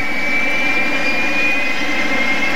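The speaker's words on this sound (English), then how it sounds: "After we spool up the right engine" The right engine of a Fouga 170 jet spools up in a loud, sustained turbine roar with a steady high-pitched whine on top, heard close and continuous with no talk over it.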